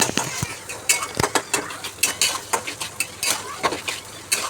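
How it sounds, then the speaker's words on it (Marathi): Chopped tomatoes being sautéed with fried onion in a pan: a spatula clinks and scrapes against the metal in quick, uneven strokes over a soft, steady sizzle. "टमाटा पण चांगला आपण परतून घेऊया."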